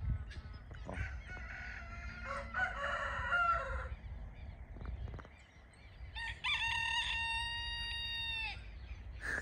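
A rooster crows out in a pasture, a drawn-out call heard at moderate distance over a low rumbling background, followed by other bird or animal calls.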